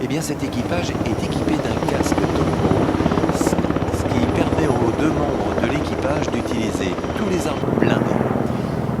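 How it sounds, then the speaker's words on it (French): A Tiger multirole attack helicopter flying at the Paris Air Show at Le Bourget, its steady rotor and engine roar continuous and fairly loud beneath a commentator talking throughout. "Si le Tigre c'est un hélicoptère multirôle"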